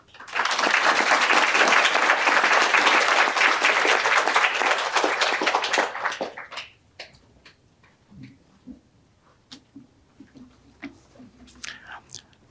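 Audience welcoming a speaker to the stand at a child-protection talk: loud, dense applause for about six seconds, then fading into scattered claps and quiet room shuffles.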